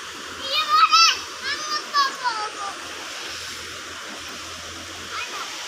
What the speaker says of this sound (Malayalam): ഇപ്പോൾ മഴ ആയതുകൊണ്ട് നല്ല കലങ്ങിയ വെള്ളമാണ്.